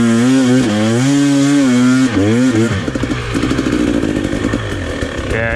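Hard enduro dirt bike held in second gear on slippery terrain, engine droning steadily loud and close, then revving in rising and falling surges before breaking into choppy, stuttering bursts as the throttle works over rough ground.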